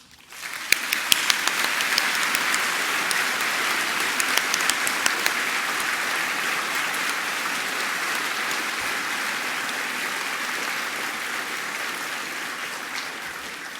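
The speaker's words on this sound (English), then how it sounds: "their role, too, deserves to be acknowledged by a round of applause" Sustained audience applause at a 2019 university graduation ceremony, a dense, steady wash of many hands clapping that swells quickly and holds loud and even for over ten seconds, with no talking over it.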